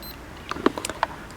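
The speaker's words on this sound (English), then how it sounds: "I'll get the timer on." A fishing timer on a feeder-fishing match at Car Mill Dam gives a few short, sharp electronic beeps and clicks close by, set against quiet outdoor background.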